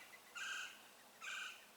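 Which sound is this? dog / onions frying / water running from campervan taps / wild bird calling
wild bird calling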